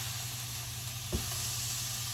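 Food sizzles in a frying pan with a steady, close hiss, broken once by a short knock near the middle.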